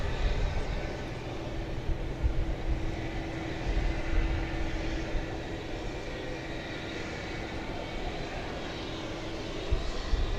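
An Iberia airliner taxis at night at DFW Airport, its engines giving a steady, moderately loud drone with a constant hum that holds evenly throughout, no voices present.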